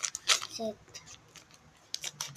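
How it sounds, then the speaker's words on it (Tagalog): Scissors snip twice, as sharp, bright cuts near the start and again toward the end, close and fairly quiet, with a brief voice heard between them. "Kakamit tayo ng gunting."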